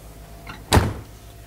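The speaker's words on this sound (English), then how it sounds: "I'll shut the door behind you" A single solid door of a 2004 Fleetwood Bounder 38N diesel pusher motorhome shutting with a firm thud and brief rattle, close by, in an otherwise quiet interior.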